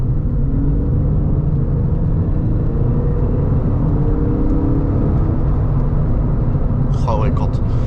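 A Porsche 996 4S engine is revved under throttle, a loud, close rumbling drone with gently rising tones. A voice briefly cuts in near the end.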